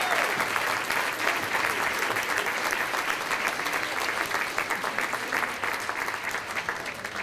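A crowd at a Chicanos in Broadcasting awards event claps steadily for its committee, a thick, continuous round of applause that eases slightly toward the end.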